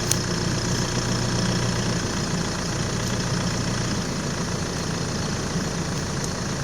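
Vehicle engine idling steadily as it creeps slowly forward while setting up logs for a Lucas Mill, a continuous close mechanical drone with an even rumble and no speech.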